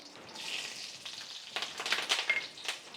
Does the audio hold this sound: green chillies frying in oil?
yes